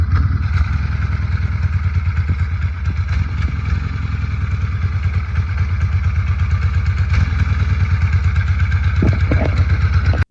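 A vintage Harley-Davidson Sportster motorcycle engine runs steadily close by, its loud, lumpy V-twin idle thumping rhythmically throughout with no talk.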